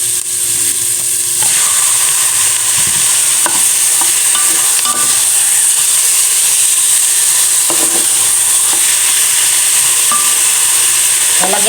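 Pork is sautéed in a pan for Filipino dinuguan, producing a loud continuous sizzle and hiss with scattered scraping and stirring strokes of a utensil against the pan throughout, and no voices.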